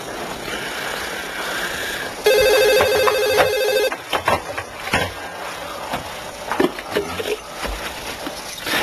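A telephone rings in one loud, steady electronic trill lasting over a second, set against a busy indoor room with scattered knocks and rustles.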